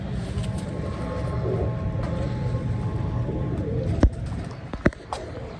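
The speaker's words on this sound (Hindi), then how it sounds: "ये कबूतर है," A home-bred pet Topi pigeon coos in a low, continuous murmur close by. A few sharp clicks and taps sound near the end.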